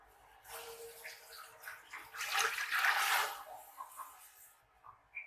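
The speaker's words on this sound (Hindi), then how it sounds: "हुण मैं इहदे विच डाल देनी हां पानी" Water poured into a cooking pot over measured rice, a rushing splash that builds to a loud peak midway and tapers off, heard up close with no talk.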